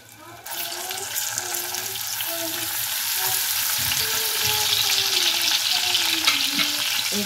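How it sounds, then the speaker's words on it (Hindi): Mustard seeds, nigella seeds and ginger-garlic paste fry in hot desi ghee in a frying pan, a steady, dense sizzle that rises quickly and holds, with faint clinks and stirring underneath. "एक फ्राई पैन लें और उसमें देसी घी डालें। जब घी गर्म हो तो इसमें थोड़ी सी राई और थोड़ी सी कलौंजी और हाफ टेबल स्पून लहसुन अदरक पेस्ट"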